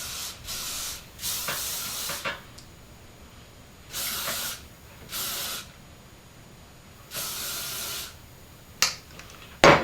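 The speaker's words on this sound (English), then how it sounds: "I'm going to use this L'Oreal Elnut. Just get a really good spray." L'Oreal Elnett hairspray is sprayed onto curled fine hair in several separate hissing bursts, each lasting about a second, close and fairly loud with short pauses between.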